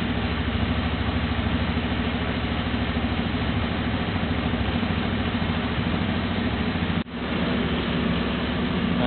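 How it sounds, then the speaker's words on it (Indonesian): An automatic scooter engine idles with a steady, loud, low mechanical rumble and a brief dip near the end, with no talk. "Kemudian kita hidupkan mesinnya."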